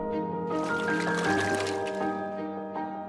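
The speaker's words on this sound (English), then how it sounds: "The direct water system provides an endless supply of clean, pure water and can also dispense large volumes at once" Water pours from a Coway Aquamega 200C dispenser into a container, a close, continuous splashing fill that rises in pitch as the vessel fills, with a soft drip and gurgle at the end.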